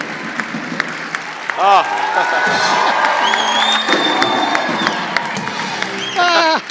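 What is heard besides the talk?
audience applause and cheering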